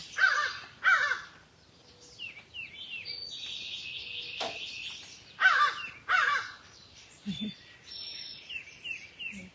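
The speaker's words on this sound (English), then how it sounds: "Crows visiting." Several crows caw in short bursts of two, fairly close and loud, with quieter birds chirping in the background between calls.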